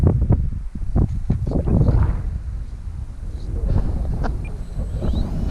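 Strong wind buffeting the microphone outdoors on a very windy day while a model aircraft is flown, with heavy low rumbling gusts throughout.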